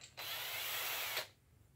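A power drill with a bit fitted whirs at a steady high pitch for about a second, then winds down and stops; close and fairly loud.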